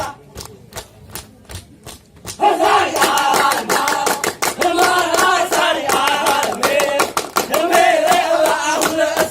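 Rhythmic hand clapping from the Saman dance of Aceh: sharp, evenly spaced claps at first, then a loud, fast ensemble of clapping and chanted voices in tight unison.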